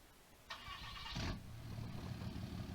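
A nearly new, straight-piped pickup truck in a farming video game cranks with a brief high starter whine, then catches into a deep, throaty idle that rumbles on steadily, close and without talk.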